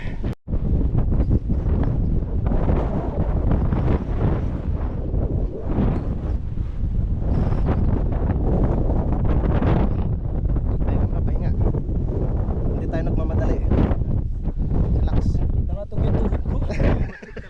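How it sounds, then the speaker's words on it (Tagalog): Strong gusting wind on a mountain peak buffets the microphone in loud, continuous roaring blasts, with people talking intermittently beneath it. "Lakas ng hangin."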